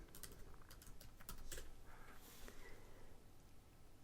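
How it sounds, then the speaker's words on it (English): Rapid clatter of keystrokes on a computer keyboard while an apt command is entered in a terminal, close and fairly quiet, with irregular bursts of taps and no talking. "we can type in sudo apt auto remove."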